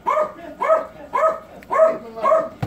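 A dog indoors barks at the door in five evenly spaced, fairly loud barks, with a short thump at the end.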